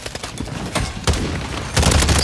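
Bal-27 rifle fire in Call of Duty MW3, delivered as rapid bursts of close, loud shots in quick succession, with a brief pause between volleys.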